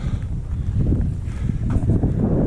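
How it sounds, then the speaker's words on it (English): Gusty winter wind on Bearpen Mountain in the Catskills buffets the microphone with a low, steady rumble that swells and eases over a few seconds, with no voices. "Hopefully the wind dies down by the time we get there."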